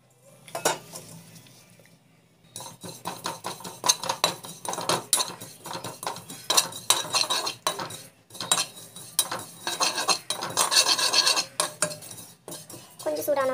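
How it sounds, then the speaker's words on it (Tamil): Sesame seeds being dry-roasted in a pan, stirred with a utensil that scrapes and clinks against the metal in quick irregular bursts, close and fairly clear throughout. "எள்ளு வந்து வறுக்கலாம்."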